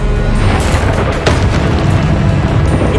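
A Confringo spell explodes in combat in the 2023 video game Hogwarts Legacy. A loud booming blast and sustained rumble fill the whole stretch, with a brief sharper burst partway through.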